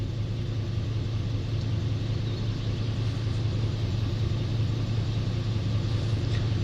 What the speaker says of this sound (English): I'm not touching the throttle at all, so this is all at idle.